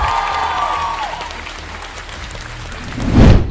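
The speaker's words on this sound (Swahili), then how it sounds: "Clap your hand for Jesus." Worshippers in a church clap for Jesus in a sustained, crowded round of applause that eases off midway, then swells into a louder burst near the end.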